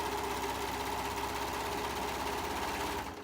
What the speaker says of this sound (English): I'm going to serge them together.